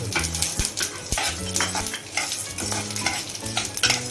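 Chana dal, sesame seeds, peanuts and dried whole red chillies frying in oil for a green chutney premix, with a steady dense sizzle and frequent scraping, clinking strokes of a spoon stirring in the pan, close and continuous.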